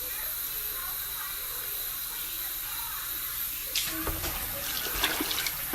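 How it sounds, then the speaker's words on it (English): Water is poured into a pot for a homemade fever tea with cassava, a soft splashing and trickling that starts partway through after a low background hiss. "We're gonna add enough water."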